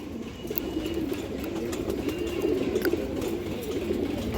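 A large hen pigeon coos softly nearby in repeated low, throaty murmurs, with faint clicks and rustling around it.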